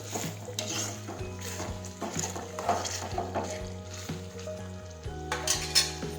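A spoon stirring Kashmiri chili into a sev tomato curry in a pan, with steady sizzling frying and repeated scraping and clinking against the metal, close and clear, no talking.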